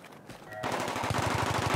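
Rapid automatic gunfire in a Battlefield-style 5v5 scrim match on the Karkand map, starting after a short quiet stretch and building into a steady, fast rhythmic burst of shots that dominates the clip.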